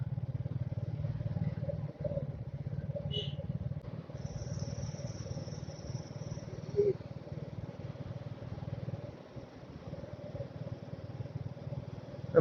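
Two motorbikes riding together along a forest road deep in the jungle, heard as a faint, steady low engine drone that runs unbroken from start to end.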